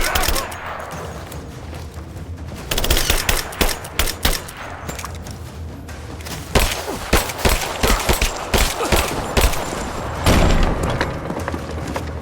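Enemy gunfire in the video game Rise of the Tomb Raider, loud bursts of rapid automatic shots and single cracks in irregular clusters, close and sharp, with some game voices mixed in.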